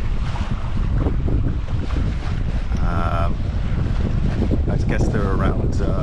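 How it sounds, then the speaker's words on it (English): Moderate wind of about 8 knots while a sailboat heads across the Bay of Biscay, loud steady wind rush buffeting the microphone with water washing underneath and brief voices mixed in. "It's calm, and we've got moderate winds."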